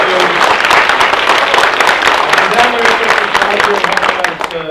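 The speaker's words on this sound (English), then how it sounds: "Give a big round of applause for Youth Without Shelter" Loud, continuous applause from an audience at a holiday charity event for Youth Without Shelter, dense clapping filling the whole stretch with voices and cheers mixed in before it eases slightly at the end.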